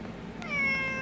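A cat gives a single short meow close by, a clear rising cry over a faint background murmur.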